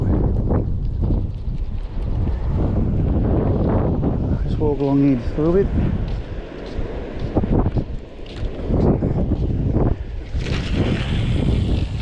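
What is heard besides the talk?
wind blowing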